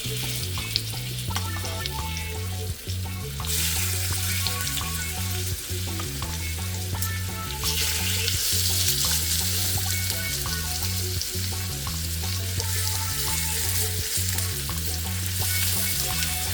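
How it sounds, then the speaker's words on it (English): Seasoned oxtail with salt, pepper, garlic and browning sears in a hot pan, a loud steady sizzle running throughout with occasional stirring scrapes and brief surges in intensity. "Now we have our oxtail seasoned up with just some salt, pepper, garlic, and some browning. We're gonna get those seared up."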